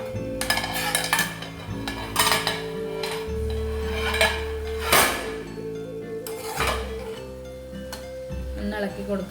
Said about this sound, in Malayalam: ഒന്ന് ഇളക്കി കൊടുക്കാം കേട്ടോ.